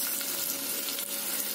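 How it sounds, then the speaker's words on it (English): Finely chopped onions hit hot oil and sizzle loudly and steadily, a dense continuous frying hiss with no voices over it. "Now the onion goes in."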